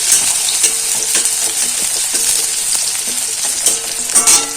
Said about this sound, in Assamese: এইখিনি মই অলপ ভালকৈ ভাজি লম।